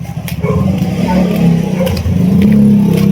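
A car engine running and revving steadily at close range in a hot outdoor spot, with a low mid-pitched drone that swells slightly, mixed with background noise and occasional voices.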